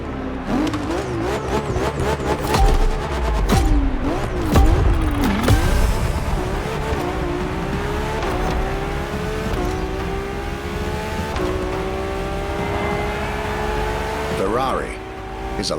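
A Ferrari LaFerrari hybrid supercar in The Crew Motorfest revs hard, its engine pitch climbing and dropping through repeated surges with brief tire noise, loud and close, with a voice talking over it.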